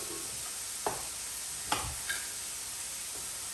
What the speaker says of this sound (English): while our sweet potato, onion and garlic are cooking down